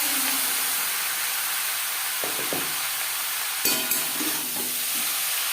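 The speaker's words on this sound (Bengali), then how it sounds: "কালো জিরে কাঁচা লঙ্কা ভেজে নেওয়ার পর দিয়ে দেবো মূলো। আমি রান্নাটা কম তেলে করছি" Radish frying in a little oil with black cumin and green chillies crackles with a steady hiss, broken by a few sharp spatula clatters against the pan.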